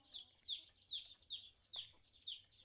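Faint, repeated clucking calls from chickens, about six short bursts in a steady rhythm, with quiet background between them.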